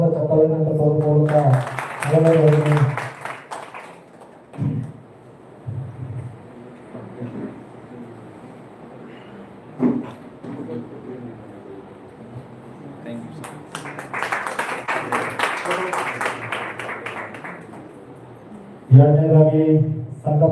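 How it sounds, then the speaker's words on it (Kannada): An audience at a lucky draw event claps for Ramesh Chowda in two stretches of moderately loud applause. Someone speaks over a microphone before, between and after the clapping. "ಅವರಿಗೆ ಜೋರಾದ ಚಪ್ಪಾಳೆಯನ್ನು ತರುವ ಮೂಲಕ"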